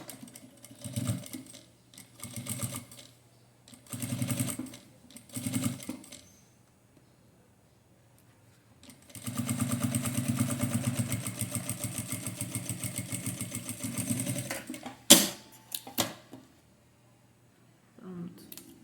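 A sewing machine topstitches a fabric phone holder beside a zipper, first in several short bursts of stitching, then in one longer steady run, with a clack near the end and quiet gaps between.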